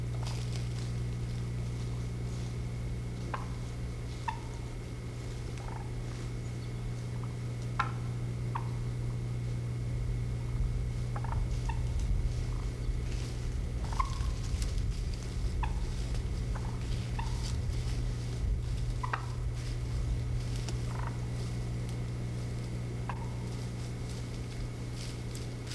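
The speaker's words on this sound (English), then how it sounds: "Here's an example of a gobbler clucking a turkey." A wild turkey gobbler gives scattered short, sharp clucks, a dozen or so spaced irregularly across the stretch, moderately near over a steady low outdoor hum with faint rustling and no talking.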